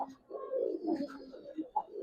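Giribaz pigeons coo in a low, throaty run of rolling calls that swell and dip, close by and steady, with a couple of sharper accents near the end.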